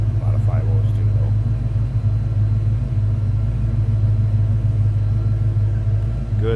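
A 1990 Ford Mustang LX convertible, 7UP Edition, with a 5.0 liter V8 rumbling at a steady idle, deep and close, with talk over the continuous engine note.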